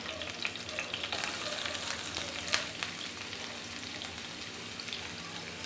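Finely chopped onion sautéing with garlic and green chili in a pan for a drumstick leaf dish, a continuous bright sizzle with light crackles and occasional stirring, close and steady.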